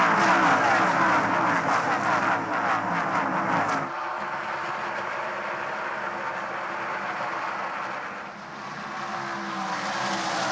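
NASCAR Cup race cars restarting under the green flag at Dover Motor Speedway in 1998, a loud, continuous engine roar that drops and settles partway through, with no talk over it.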